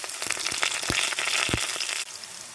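Chopped onions with cinnamon and bay leaves hit hot oil in a pan, giving a bright, steady sizzle with a couple of crackling pops and a sudden drop in intensity near the end.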